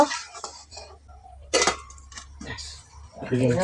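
A pot of curry is stirred and then covered with a lid, heard as several sharp metallic clanks and scrapes, one louder knock near the middle, with a voice talking in between.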